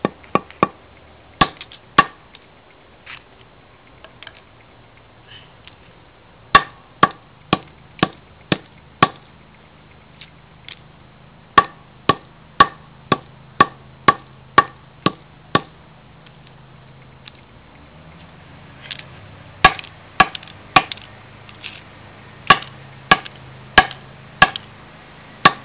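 Hammer blows strike a Coby MP3 player one after another, loud sharp impacts in irregular bursts with short pauses between runs, no voices.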